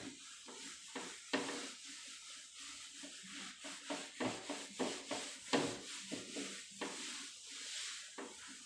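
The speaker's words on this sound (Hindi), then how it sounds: "इसको अब मैं रब करता हूं।" Something rubbed by hand on a lab bench during a chemistry class, a series of irregular close scraping and rubbing strokes with short pauses between them, quiet and without talk.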